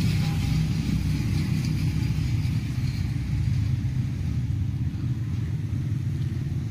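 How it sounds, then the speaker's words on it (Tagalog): A homemade air compressor built from two washing machine motors with capacitors runs steadily, a close, constant low hum and rumble with no break or change in pace. "washing machine motor."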